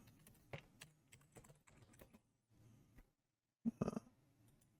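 Someone types on a computer keyboard at an electronics test bench. The keystrokes are quiet and irregular, coming in short bursts with pauses, and a louder flurry of clacks sounds near the end. No one speaks.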